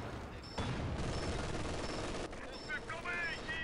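Gunfire from battle in the Company of Heroes 2 World War II strategy video game, a dense roar of machine guns and shots, steady and loud, with a voice talking over it.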